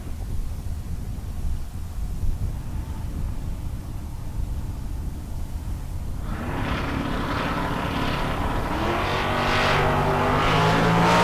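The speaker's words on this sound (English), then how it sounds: "Arnswald the Camaro on the right side, Remy the Pinto on the left side." A Camaro and a Pinto launch at a Sunday bracket drag race, a low engine rumble first, then both cars roar away loudly with rising, revving engine tones that build and hold to the end.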